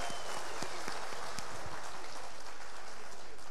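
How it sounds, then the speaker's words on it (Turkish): Audience applause at a folk music broadcast, a continuous hiss of many hands clapping at a steady level, with no voices over it. "İzmir'i bir alkışlayalım"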